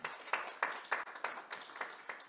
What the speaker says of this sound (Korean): 귀한 발표해주신 박형준 교수님께 다시 한번 큰 박수 부탁드립니다